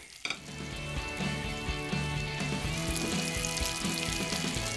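Chorizo sizzles in an even layer in a hot pan, a loud, continuous close-up crackle and spatter that swells right after a brief clatter at the start and holds steady throughout.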